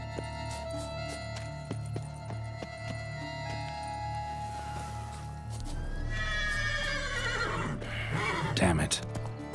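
Horse neighing and whinnying in The Witcher 3 game, a loud drawn-out whinny rising near the end over steady game music and ambience, with some hoof clop and someone talking.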